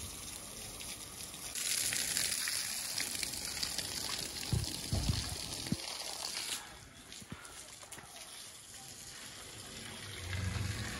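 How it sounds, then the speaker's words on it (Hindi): Water poured onto garden plants, a steady gushing splash that rises partway through and then thins to a lighter trickle, with a few brief thumps in the middle. "दे रहे पौधे को पानी।"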